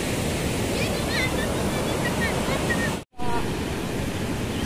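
Steady, broadband rush of river water flowing at a bathing spot, constant and fairly close, with a brief dropout partway through and faint voices in the background.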